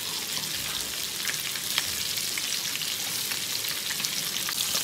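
Pork belly slices pan-fry with a dense, crackling sizzle and bursts of spattering oil, loud and close, with no voices.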